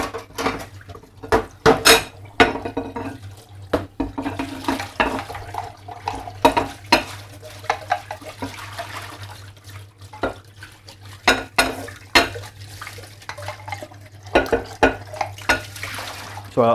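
A measuring jug being washed in a kitchen sink while making doughnut holes, with running water, repeated clatters and knocks of plastic and dishes against the basin, loud and close, continuing throughout with no talking.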